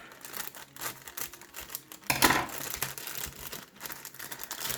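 Crinkly plastic packaging on a collectible figure being opened with scissors, with close, irregular rustles and crackles and a louder tearing crunch midway, heard alone without speech.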